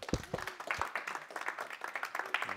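A small audience at a tech meetup talk claps for the incoming presenter, a brief, fairly quiet patter of hands with a few sharper claps near the start.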